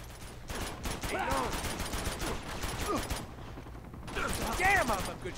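Rapid bursts of video-game gunfire from Uncharted: Among Thieves crackle steadily throughout, with scattered shots, whooshing effects and a voice speaking over parts of the battle.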